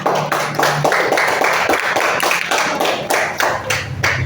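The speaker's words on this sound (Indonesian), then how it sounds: "Tepuk tangan semua." Classroom applause after group presentations, a steady burst of many hands clapping at close range, loud and continuous with no talk over it.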